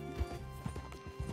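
Horse hooves clip-clopping in the video game Red Dead Redemption 2, several steady hoofbeats at a walking pace, fairly near, over a low sustained tone from the game's background music.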